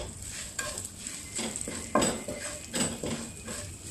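Asafoetida and turmeric powder stirred in a pan, a spoon scraping and clinking against the metal in short irregular strokes under a faint sizzle, close and fairly quiet.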